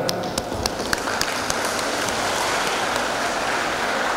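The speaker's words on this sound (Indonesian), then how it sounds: "Tepuk tangan dong." Sustained audience applause at a school induction ceremony for new students at SMA Negeri 6 Palembang, a dense, steady clatter of many hands filling the hall at even loudness for several seconds.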